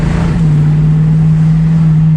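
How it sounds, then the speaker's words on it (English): A 1973 AMC Javelin Pierre Cardin edition engine idles close by, a loud steady low hum holding an even pitch after a brief settle at the start, with no talking over it. "These are holding an idle now."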